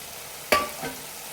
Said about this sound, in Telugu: మంచిగా కలుపుకోవాలి ఈ బీరకాయ కర్రీ